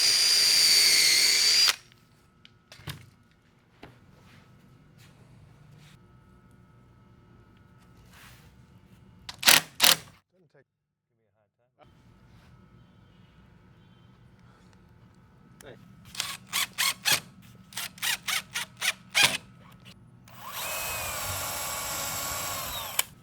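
A power drill driving coated screws into cellular PVC window trim, several short bursts of whirring spread apart, with quiet handling between and a voice talking at times.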